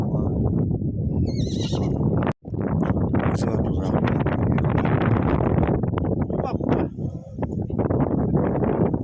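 A mare with a foal neighs while being introduced to the herd, her whinnies rising over steady hoof clip-clops and rustling in gusty outdoor wind, with people talking nearby.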